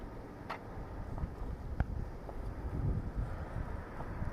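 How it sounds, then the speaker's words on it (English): Strong cold winter wind on a mountain trail buffets the microphone, a steady low roar and rumble with occasional gusty bumps, no voices. "Windy is all get out. Very windy, which makes it cold."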